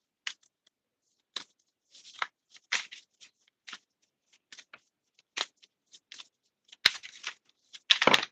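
Cards from a Secret of the Woods tarot deck are handled and drawn, producing a sparse series of quick, crisp papery flicks and snaps, faint and close, with silence between them.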